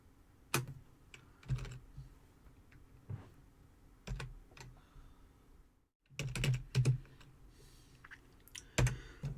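Keys clack on a computer keyboard in short, irregular bursts of typing, close and fairly quiet, with no one speaking.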